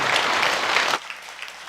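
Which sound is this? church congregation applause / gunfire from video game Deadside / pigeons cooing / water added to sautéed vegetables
church congregation applause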